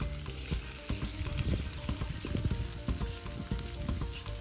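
Onions sizzle and crackle as they fry in a pan for a côte de boeuf chimichurri, a steady close hiss dotted with small pops and occasional stirring knocks.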